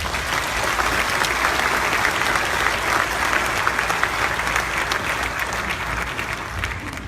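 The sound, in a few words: audience applause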